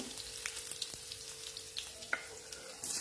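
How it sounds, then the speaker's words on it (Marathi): Garlic sautés in oil in a pan for a brinjal and potato dish, a faint, steady crackling sizzle with a few light ticks of stirring, heard close and alone. "लसूण आपल्याला छान तेलावर परतून घ्यायचंय"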